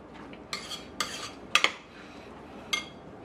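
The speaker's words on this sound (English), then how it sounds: "let me give that another quick stir" Pineapple salsa stirred in a bowl with a utensil, giving a few sharp clinks and scrapes spaced about half a second apart against a soft background hiss, with no voices.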